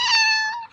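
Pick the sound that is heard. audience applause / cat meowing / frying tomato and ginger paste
cat meowing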